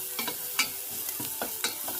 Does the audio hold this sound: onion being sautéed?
yes